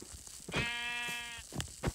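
A single sustained, wavering Minecraft sheep bleat, close and clear, comes alone between brief quieter sounds.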